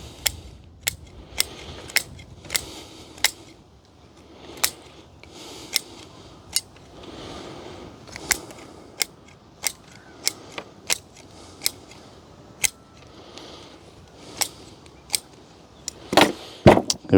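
Sharp scissor snips trimming the roots of an olive bonsai from a divided forest planting, a steady series of close, crisp clicks spaced about a second apart, with faint handling rustle between them.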